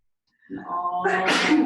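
A single close, loud sneeze bursting out after a short silent gap, with a voice speaking briefly alongside it.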